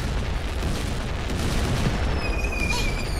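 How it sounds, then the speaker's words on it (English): Fireworks bursting in the video game Crossy Road: dense, continuous booming and crackling fill the whole stretch, with a few whistling streaks rising near the end. "All the fireworks are so fun."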